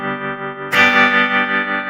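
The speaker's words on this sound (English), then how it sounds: "this is the Vox tremolo." Electric guitar played through a Vox AC30 amp with its tremolo engaged: a strummed chord rings out after a brief sustained tone, its loud distorted sustain pulsing gently, with no talking.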